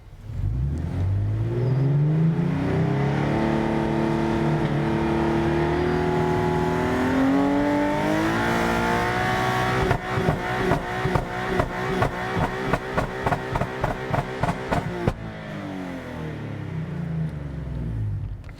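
A tuned Z car engine, set up to shoot flames, revs up loudly and climbs in pitch, then bounces rapidly against the limiter in a stuttering burst before settling back.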